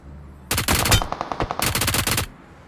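Rapid automatic gunfire in a video game, two loud sustained bursts of closely spaced shots separated by a short pause, alone without talk.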